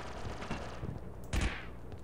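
Blaster gunfire from the Star Wars game Republic Commando pops in a quick volley, a run of sharp shots with one louder burst near the end, mixed under game ambience.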